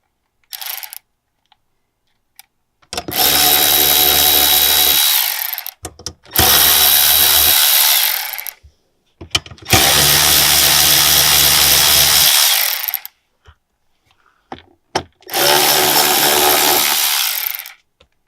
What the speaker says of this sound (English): I'm using an electric impact.